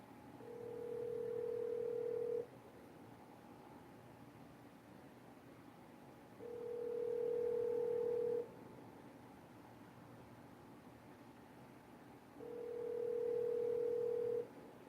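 Three long steady telephone call tones repeat at even intervals of about six seconds over a faint hiss while a number is redialed after an unavailable-subscriber message, with no voices in between.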